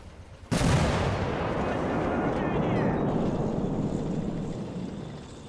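A mortar round fires in a Men of War battle set during the Russian assault on Sievierodonetsk, a sharp loud blast that rolls into a long, roaring, slowly fading rumble of battlefield noise.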